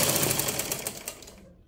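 Sewing machine stitching the side seam of a blouse, a fast, steady run of close mechanical ticks that stops and fades out near the end.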